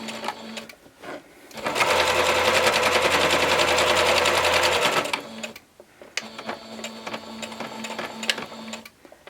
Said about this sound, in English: but we're going to be sewing at an angle. And do not forget to do your back stitch.